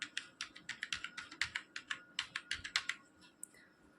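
A mobile number is tapped out on a keyboard in a quick, even series of crisp, close key clicks, about twenty strokes, then a final isolated click.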